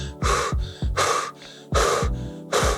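Heavy, loud breathing during intense exercise effort, four strong gasping inhale and exhale bursts in a fast, uneven rhythm, close to the microphone with no talking.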